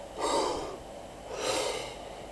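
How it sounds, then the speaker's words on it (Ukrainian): A forced breath out followed by a forced breath in, two close, breathy rushes of air about a second apart, heard alone without talk. "І це називається форсований видих і форсований вдох."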